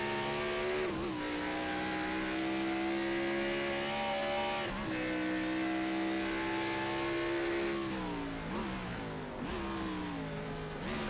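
Xfinity stock cars racing on the Portland International Raceway road course, engines roaring loud and close throughout with rising and falling revs as they brake and accelerate through corners, no talk.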